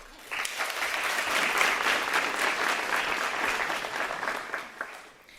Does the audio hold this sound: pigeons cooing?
no